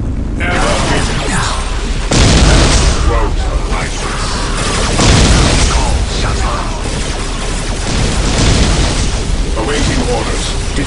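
Orbital defense strikes in Warhammer 40K: Dawn of War: Soulstorm, with loud, continuous booming blasts and rumbling explosions that swell in heavy bursts around two and five seconds.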